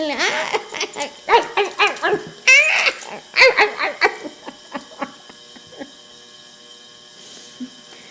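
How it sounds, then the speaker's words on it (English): A big dog barks, yips and whimpers in an excited series of close, loud bursts, crowded together at first and then thinning to scattered yelps. "they got this big dog just biting his behind the whole way"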